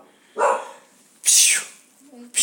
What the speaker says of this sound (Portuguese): Ai, eu tô com um cachorro novo aqui.